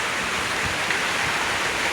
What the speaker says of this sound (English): The water spout is like gushing water, and it's flooding over there.